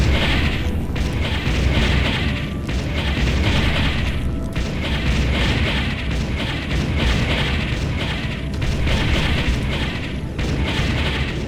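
In the Ground Control strategy game, an enemy Hoverdyne is destroyed amid steady booming explosions and mechanical battle noise. Repeated dull blasts sound over a constant loud rumble, with no voices.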